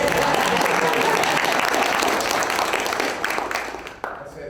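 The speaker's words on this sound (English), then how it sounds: "We can clap." Sustained audience applause at a conference panel, a full dense wash of clapping that gradually fades out toward the end, with some voices mixed in.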